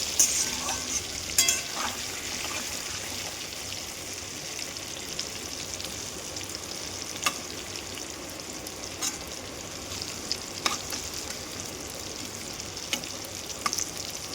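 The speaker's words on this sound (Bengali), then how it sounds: "তেলের মধ্যে তেজপাতা আর পেঁয়াজটা দিয়ে তারপরে একটু নুন হলুদ দিয়েছি" Bay leaves and onion frying in hot oil with salt and turmeric, cooking a Bengali meat curry; a steady, close crackling sizzle runs throughout, with occasional sharper pops and stirring clicks.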